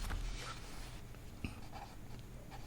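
Pen or chalk writing out a math equation during a Hindi-language class 10 algebra lesson, faint scratchy strokes with a soft tap, quiet and close with no talking.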